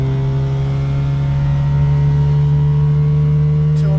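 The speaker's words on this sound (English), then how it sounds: "Third gear, we're going to let that wind out now." A tiny micro car's engine strains steadily in third gear, a loud, constant whining drone with a steady hum inside the small cabin, holding at one pitch throughout.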